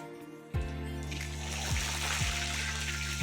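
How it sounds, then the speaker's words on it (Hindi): Cumin seeds hit hot mustard oil in a pan and burst into a loud, steady sizzle that sustains throughout, with a few sharp crackles and pops rising over the continuous hiss. "ऑयल गरम हो गया है तो इसमें मैं जीरा डाल रही हूँ।"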